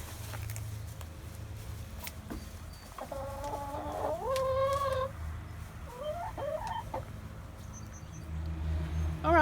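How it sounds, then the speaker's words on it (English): Old Dominique chickens cluck and squawk close by, a few drawn-out calls rising over a low barnyard hum, with short bursts of clucking between quieter stretches. "The Dominecker chicken is a good all-purpose chicken."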